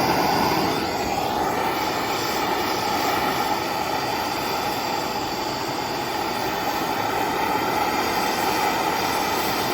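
A torch flame roars steadily and close up as it heats a DIY witch's cauldron, with no talk over it.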